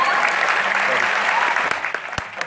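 A live comedy-show audience in Dubai claps in dense, sustained applause, loud and close, with voices mixed in beneath the clapping.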